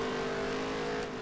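Race car engines in the video game NASCAR Heat 3 hold a steady, loud droning whine through a short stretch, with layered engine tones close together as cars run side by side.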